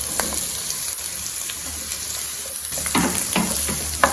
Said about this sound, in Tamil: இப்போ இதில் குடமிளகாய் சேர்த்துக்கலாம்